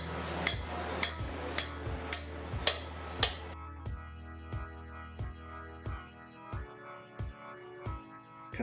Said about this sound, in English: Continue to tap on the punch, driving out the axle until you are able to grasp it with your hand and remove it.